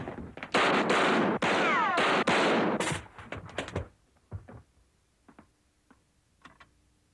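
Gunfire in a 1989 TV movie: a loud, rapid volley of repeated shots for about three seconds, then quieter scattered clicks and knocks.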